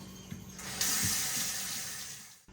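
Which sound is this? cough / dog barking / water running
water running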